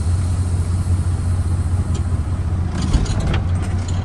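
Truck engine rumbling low and steady as it pulls forward in low gear during a trailer brake test, with a few faint clicks and rattles over the drone.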